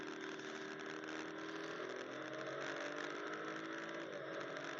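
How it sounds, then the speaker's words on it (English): A 2025 Audi RS4 25 Years Edition's turbocharged engine under load on the Autobahn: a steady, droning mechanical hum with a faint rising whine layered in, constant and moderately loud throughout. "the turbos make such a cool mechanical sound when they spool up"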